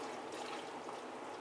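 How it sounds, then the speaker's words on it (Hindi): Faint, soft trickling as one cup of water is poured into a pressure cooker, a thin continuous stream with no voices over it. "1 कप मैंने पानी डाला है।"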